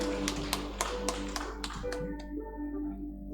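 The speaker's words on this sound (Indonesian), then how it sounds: "Ayo tepuk tangan saudara." Wedding guests clap in a slow, uneven series of about eight claps, moderately close over a low hum, fading out toward the end.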